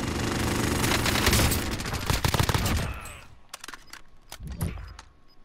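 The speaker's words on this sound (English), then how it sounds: "He was shooting at somebody down there." Another player fires a gun in an online shooter game's prison map, first heavy sustained automatic bursts, then sparser separated shots that trail off, loud and close.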